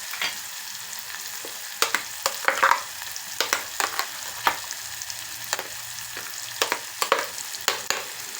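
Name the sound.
onions frying in a pan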